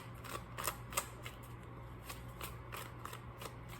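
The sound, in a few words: shuffling tarot cards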